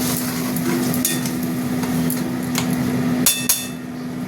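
Spice paste with Kashmiri chilli sizzling in a pan for a prawn and jackfruit curry, steady frying hiss with sharp scrapes and knocks of a utensil against the pan.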